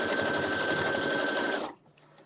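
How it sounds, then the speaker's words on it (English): A sewing machine runs steadily, stitching a folded flat skirt waistband, with a continuous loud whir for about a second and a half before cutting off abruptly, leaving near silence. "I'm just sewing it together"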